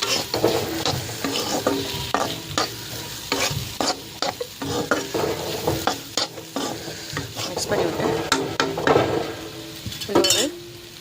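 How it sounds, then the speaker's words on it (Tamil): A ladle stirring ivy gourd fry in a pan, with repeated scraping and knocking strokes over a steady sizzle, close and lively throughout, no speech. "இது நல்லா இப்படி கரண்டி வச்சு நல்லா மிக்ஸ் பண்ணி விடுங்க."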